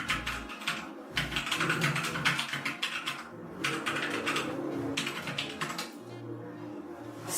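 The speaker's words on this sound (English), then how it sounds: "I can type again" Someone types quickly on an RK71 mechanical keyboard, producing a close, continuous run of crisp key clacks with short pauses between bursts.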